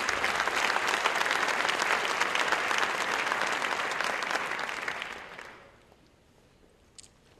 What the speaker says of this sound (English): let's give Dr. Cook another round of applause